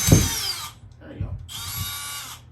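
A power drill whirs loudly in two bursts with a short pause between, boring a hole with a small bit during the build of a Rans S-21 aircraft's rudder pedals and control stick; brief low thumps sit between the bursts.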